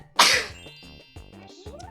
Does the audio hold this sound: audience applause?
no